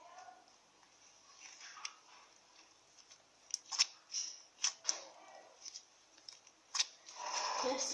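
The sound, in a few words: scissors cutting paper flyers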